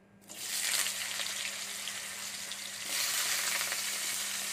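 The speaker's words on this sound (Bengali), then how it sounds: "তেল দিয়ে দিয়েছি, তেল গরম হচ্ছে, গরম হয়ে গেছে, আমি আলুগুলো দিয়ে দিচ্ছি।" Potatoes dropped into hot oil for sukto, an abrupt loud sizzle that settles into continuous close frying, swelling again near the end.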